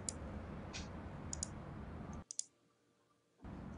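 A computer mouse clicks on a share button, giving a few crisp, close clicks over a faint room hiss that cuts briefly to near silence.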